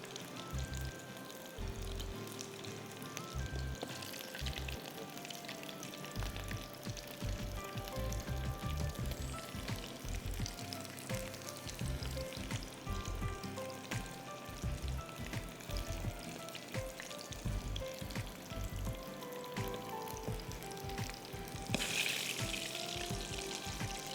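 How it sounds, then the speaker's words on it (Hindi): Breadcrumb-coated chicken pieces fry in a pan of oil with a dense, continuous sizzle and crackle that holds steady for the whole stretch, close and fairly loud, with no talking. "पूरी चिकन इस तरह आपने फ्राई करनी है।"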